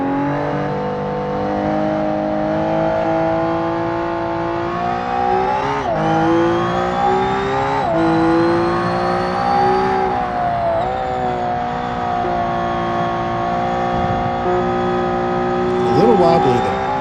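A Widowmaker GT car driven in BeamNG, its engine holding a loud, steady harmonic drone that rises and dips with throttle and gear changes, with a brief squeal near the end.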